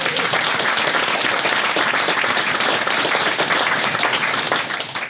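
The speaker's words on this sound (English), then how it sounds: "Big round of applause," An audience breaks into steady, dense applause to welcome Tom Evans, the 2025 UTMB winner, with continuous clapping filling the room throughout at an even, loud level before tapering slightly at the end.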